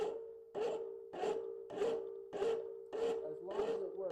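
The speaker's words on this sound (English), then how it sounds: "So this filing job is not going to be the nicest" A hand file rasps across a metal round punch in about seven steady, even strokes. Each stroke has a ringing metallic tone, and the strokes are close and clear with no talking.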